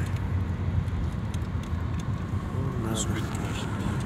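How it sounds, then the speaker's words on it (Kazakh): Busy road traffic in the Nurkent microdistrict of Almaty, a constant low rumble of passing cars filling the scene, with a voice talking over it near the end. "шулаған көліктер."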